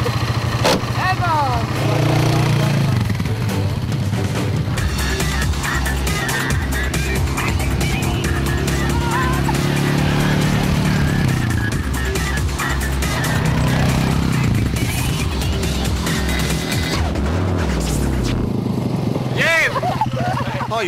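Quad bike engine revving and driving close by, loud and continuous with shifting pitch as it accelerates and eases off, people talking over the steady mechanical drone throughout.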